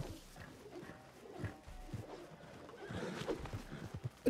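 A horse whinnies and hooves clip-clop in Red Dead Redemption 2 roleplay, with a steady run of hoofbeats and a neigh under faint background sound, fairly close and moderately loud.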